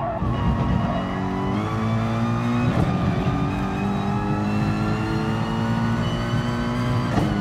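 Mercedes SLS race car engine in GT Sport revving hard through repeated upshifts, each stepped climb broken by short gear-change dips, loud and close with faint tyre scrub.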